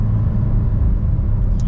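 Deep, rumbling idle of a supercar engine, close and steady with a low growling throb that fills the short moment, without speech.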